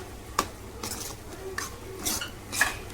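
A spoon lightly stirs prawn gravy in a pan, giving a few soft, separate metallic scrapes and clinks against the pan over a quiet background.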